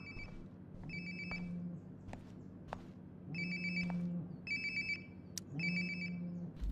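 In Life Is Strange Before the Storm, a lost mobile phone rings close by with repeated warbling electronic tones in a steady pattern, over low background game ambience and occasional soft knocks.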